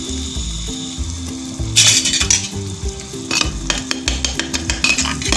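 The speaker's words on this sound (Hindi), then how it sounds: "अब फ्लेम जो है मैं थोड़ा सा हाई कर दूँगी और इसको हमने भूनना है अच्छे तरीके से हाई फ्लेम पे।" Goat brain masala frying on high flame in a handi, loud sizzling with spoon scraping and clanking against the pot in irregular bursts.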